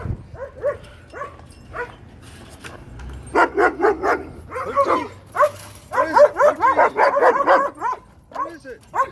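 Guard dogs barking at close range near Fort Ringgold in Rio Grande City, Texas, a run of repeated, overlapping barks that grows denser and louder midway, with a person talking over them.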